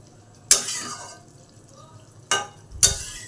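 Cabbage in a wok is stirred, with three distinct scraping clatters of a spatula against the pan, separated by quieter gaps of faint sizzling.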